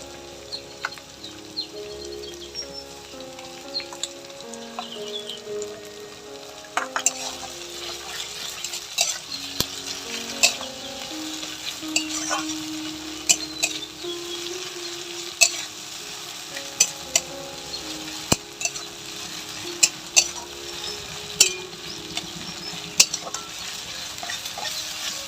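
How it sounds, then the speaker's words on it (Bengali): Ginger, garlic and green chilli paste sizzles with lightly fried onions in a pan over a village wood fire, while a utensil stirs and scrapes, giving sharp irregular clicks over a steady frying hiss. "এবার আদা রসুন কাঁচা লঙ্কার পেস্টটা দিয়ে দিচ্ছি।"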